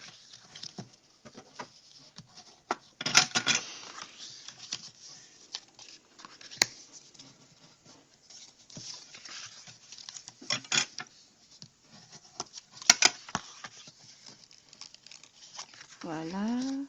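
Paper being cut and handled while making a book box: close scattered snips, crinkles and rustling in irregular bursts, with someone speaking French at times.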